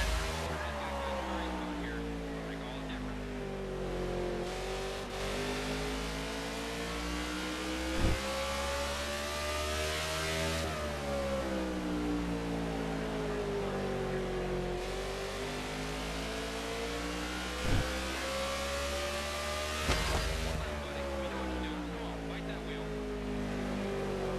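A race car on an outlap at Martinsville in NASCAR The Game, the engine droning steadily and rising and falling in pitch through repeated acceleration and braking cycles, loud and continuous with brief clunks of gear changes.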